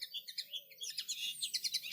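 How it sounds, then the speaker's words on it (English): Spring birdsong in a video game: bright, rapid chirps and tweets from several birds, repeating in quick bursts, fairly faint and heard alone without talk. "Birds are singing their songs of spring as some of them fly from the trees around into the sky."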